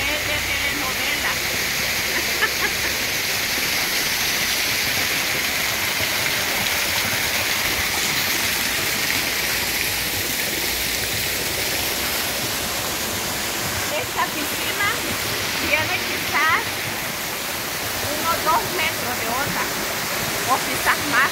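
Water rushing steadily at a natural bathing spot in El Salvador, a constant broad wash like a waterfall or stream, close and loud throughout with a few faint splashes late on.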